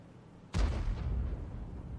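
A single heavy tank-gun blast in World of Tanks during a ranked battle with an Object 261, a sharp boom at half a second followed by a long rumbling decay.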